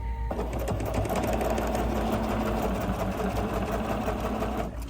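A Bernina 770 CAFE edition sewing machine runs steadily at speed, a loud, continuous close-up whirring hum with no pauses.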